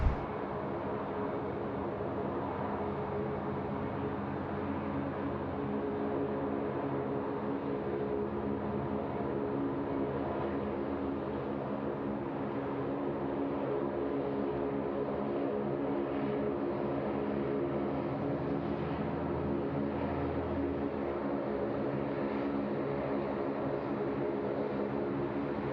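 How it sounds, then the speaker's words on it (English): A Qantas Airbus A380-800 lines up for takeoff on runway 34 left at Sydney Airport, heard as a steady, broad jet engine roar that holds level and swells slightly toward the end, with no voices over it. "Qantas 1 to Singapore. It's the A380 800. Is now ready to take off here at runway"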